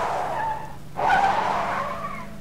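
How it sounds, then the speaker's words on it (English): A car drifts in the Rules of Survival video game, its tires squealing in a sustained, wavering screech that swells louder about halfway through and holds to the end, with no talking. "it sounds like drifting"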